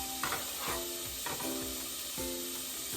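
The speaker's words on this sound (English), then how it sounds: "That's a good sizzle." Onion and bell pepper frying in hot oil, a close, steady sizzle broken by a few bursts of stirring and clatter, with no talking.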